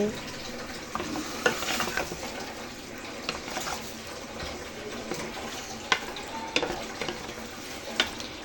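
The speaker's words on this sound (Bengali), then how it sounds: "তো আমি এই রান্নাটা কি করছি সুন্দরভাবে কষিয়ে নিচ্ছি" Chicken sautéing with spices in mustard oil, with tomatoes in the dish, makes a steady low sizzle broken by scattered scrapes and clinks of stirring, close and moderately loud with no talking.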